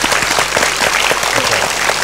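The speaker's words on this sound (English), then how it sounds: "Let's give them a round of applause, guys." A studio audience gives steady, dense applause, with many hands clapping together close by and no gaps for the full couple of seconds.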